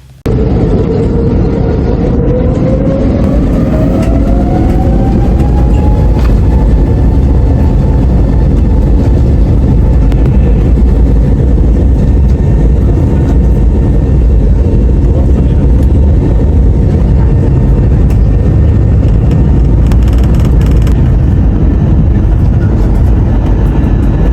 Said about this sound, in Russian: Затем мы вырулили на взлетно-посадочную полосу номер 24 правая и начали взлет.